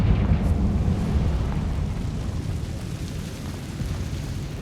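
Confringo fire spell explosion in the video game Hogwarts Legacy: a loud, deep, rumbling blast that rolls on as a dense low roar and slowly fades over several seconds, with no talk.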